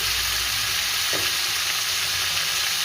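Tomatoes cooking in a pan for a tomato chutney with cashews, raisins and dried mango, an even, close sizzling hiss over a few seconds with no talking.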